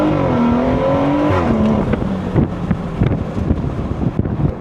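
A 500HP BMW 340 driving, its intake and exhaust giving a loud, steady engine drone that climbs in pitch and then drops into a choppy, burbling rumble, with wind buffeting over it.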